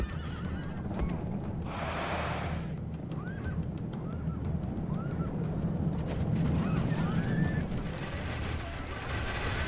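Several horses whinny in short, rising calls over a dense, rumbling crowd-like din that stays loud throughout, in a video game battle with horse archers.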